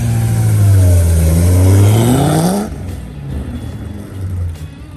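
A 1,000 horsepower Chevrolet C6 Corvette ZR1 with HRE wheels revs loudly nearby, its engine note swelling and rising for a couple of seconds before cutting off and dropping to a lower rumble.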